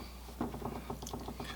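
Knife cutting down the middle of a tray of baklava, making a quick series of faint, close crackling crunches as the blade passes through the flaky pastry layers.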